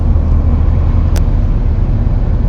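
A black car overtakes on a road in Denmark, heard from inside as a loud, steady rumble of engine and road noise with one brief high tick partway through and no talking.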